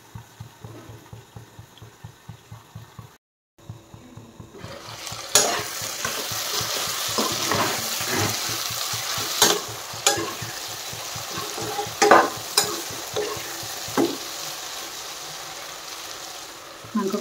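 Marinated duck meat frying in a pan for a traditional Assamese duck and ash gourd curry, a steady close sizzle with repeated stirring scrapes, briefly cut off near the start and then louder and fuller.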